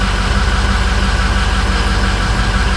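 A 2006 Ford F250 with the 6.0 Powerstroke diesel, which suffers a long-crank cold start problem, runs with a loud, steady, close-up engine rumble throughout, without any talking.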